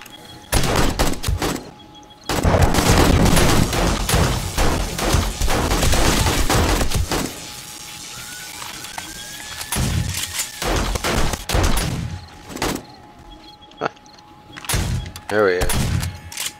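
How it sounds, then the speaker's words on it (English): Repeated gunshots in the 7 Days to Die survival game, dense close volleys in several bursts separated by quieter gaps, with a person talking between shots. "I'm not able to shoot them fast enough"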